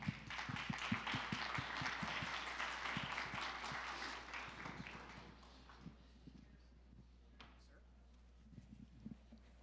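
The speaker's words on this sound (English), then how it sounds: "appreciate you guys getting the applause out of the way before I talk" An audience applauds at a live discussion event, with dense clapping for several seconds that thins out and fades into a few scattered claps and quiet room noise.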